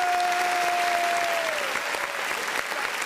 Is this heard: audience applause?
yes